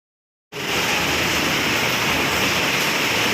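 Heavy rain pours down in a steady, loud, dense hiss that starts abruptly after a half-second of silence and continues unbroken, with no voices.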